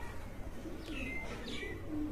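A pet pigeon kept by a fancier coos softly up close, with a few low throaty calls and faint chirps from other birds nearby.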